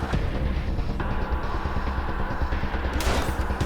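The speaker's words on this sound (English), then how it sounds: "Shoots the Meson cannon." A meson cannon in the game Wasteland 2 fires amid continuous rumbling battle noise, ending in a sharp, bright blast near the close.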